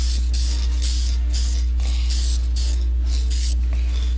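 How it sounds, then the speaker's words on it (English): Adhesion promoter hissing from a spray can onto a surface in a quick series of short close bursts over a constant low electrical hum. "I need to spray some of this on it, the adhesion promoter, so that it can take the acrylic coloring."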